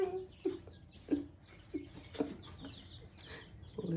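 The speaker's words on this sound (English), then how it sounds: "Poor little chicken." A baby chicken kept indoors on wood chips clucks in short, separate bursts about once or twice a second, close by and fairly faint. No one speaks over the calls.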